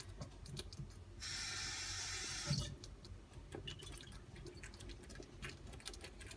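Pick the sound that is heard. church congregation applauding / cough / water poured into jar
water poured into jar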